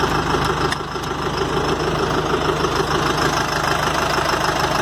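A New Holland TL5.80 tractor's diesel engine idles steadily nearby, a low chugging throb with a faint knocking rhythm and no voices.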